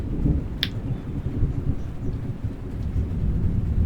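Thunder from a lightning storm rolls as a steady, heavy low rumble throughout, fairly loud and continuous, with a faint brief crackle near the start and no voices.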